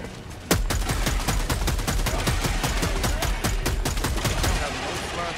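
Rapid automatic gunfire in the video game Helldivers 2, a dense rattling stream of loud shots starting abruptly about half a second in and continuing steadily to the end.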